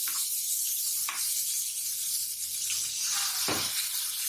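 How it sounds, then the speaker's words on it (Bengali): Chopped green chillies hit hot oil in a curry pan for a bottle gourd and pabda fish dish, giving a steady loud sizzle with brief sharper bursts as they land and get stirred. "দিয়ে দিলাম কেটে রাখা কাঁচামরিচ"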